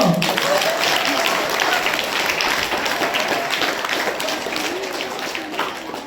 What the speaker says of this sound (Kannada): ಚಪ್ಪಾಳೆ ತಟ್ಟಬೇಕು.